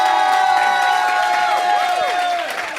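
A live audience cheers and whoops for Olivia Munn during an appearance with the Ride Along 2 cast, the crowd noise sustained and loud with a voice speaking over it.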